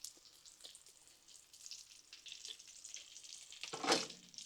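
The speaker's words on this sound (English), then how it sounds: "Shallow frying on the Blackstone is one of my favorite ways to do fried chicken." Steady crackling sizzle of chicken shallow frying in hot oil on a Blackstone griddle, with soft stirring and scraping, swelling to a brief louder hiss near the end.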